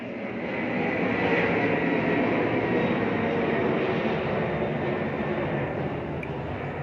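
Aircraft noise from a nearby airport, a broad steady roar that swells and holds for several seconds, with no voices over it.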